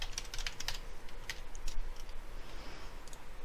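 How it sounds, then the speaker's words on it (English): Clicks of a computer keyboard as a job number is typed in, a quick irregular burst of close keystrokes followed by a few scattered taps, with no talking. "So I'm going to go and type that job number in here, OC09."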